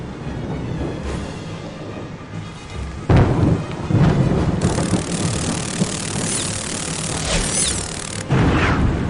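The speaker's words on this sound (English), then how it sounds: "the following morning was stormy and foul" Stormy weather in the Harry Potter and the Prisoner of Azkaban PC game: steady rain with deep rolling thunder, a loud crack and rumble bursting in partway through and another surge near the end.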